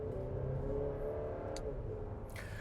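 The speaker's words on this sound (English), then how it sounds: "let's hop back in the driver's seat and go for a drive." A 2024 GMC Acadia Denali pulls away on a drive, its engine a smooth steady hum and low road rumble heard from inside the cabin, with a faint click near the end.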